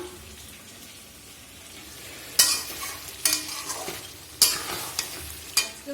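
Fried rice with ghee heats in a pan, a low sizzle running underneath while several loud scraping stirs land in bursts, close and clear, with no voices.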